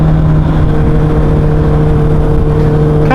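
Honda CBR motorcycle engine running loud and steady on a sunny ride, a continuous close droning hum with strong low tones, without a distinct downshift blip.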